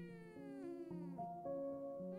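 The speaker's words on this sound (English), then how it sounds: "A friendly meowing, perhaps." A black cat in a video game gives a few soft, tonal meows in a row, clear and close over a low musical backdrop.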